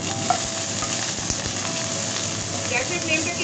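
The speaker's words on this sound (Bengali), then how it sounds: "এবার দিয়ে দিচ্ছি পেঁয়াজ কুচি। পেঁয়াজটা একটু লাল লাল করে ভাজতে হবে।" Chopped onion frying over a high gas flame in a pan, a steady dense sizzle filling the whole stretch with a few soft stirring knocks, close and moderately loud with no talk.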